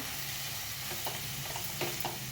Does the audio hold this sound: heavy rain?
no